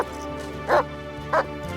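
A police K-9 dog on a search gives two sharp, close barks about half a second apart over a steady low background hum.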